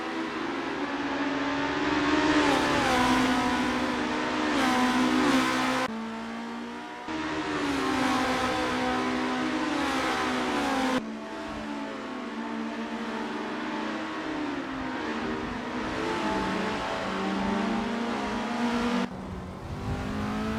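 Race cars accelerating and cornering on the Las Vegas 2023 circuit in Assetto Corsa, with loud, close engine whine rising and shifting through gears in sustained runs, abrupt cuts between them and a hint of tire squeal.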